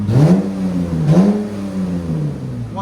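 2013 Dodge Charger AWD with a 3.6L V6 and Purple Hornet glass pack mufflers, revving twice in quick blips that each rise and fall, a loud, close, raspy exhaust note that settles back to idle.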